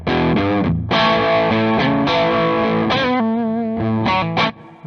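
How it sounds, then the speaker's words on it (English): Loud, gritty overdriven electric guitar chords through a Great Eastern FX Co. Focus Fuzz pedal ring out in a steady rhythm, thick and distorted with a fuzzy edge. "Just a great kind of like overdrive distortion sound."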